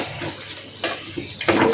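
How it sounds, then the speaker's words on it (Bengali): A little water splashing into a cooking pot of potato and eggplant after the lid is lifted, with short close pours and a light metallic clink of the pot. "ঢাকনাটা খুলে আমি একটু জল দিয়ে দিই, সামান্য পরিমাণে একটু জল দিয়ে দিই"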